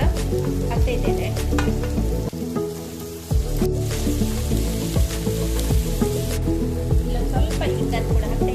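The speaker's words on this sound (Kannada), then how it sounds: "ಇದಕ್ಕೆ ಮೆಂತ್ಯ ಸೊಪ್ಪನ್ನು ಕೂಡ ಹಾಕ್ತಾ ಇದ್ದೇನೆ" Chopped fenugreek leaves go into a hot frying pan for puri bhaji, setting off a loud, steady sizzle with bursts of crackling, the brief hush partway through quickly swelling back into vigorous frying.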